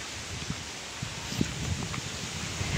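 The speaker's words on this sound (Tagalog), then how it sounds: "Lakas pa ng hangin." Steady wind blows hard across the microphone, with rustling and a few soft thumps, loud and continuous with no talking.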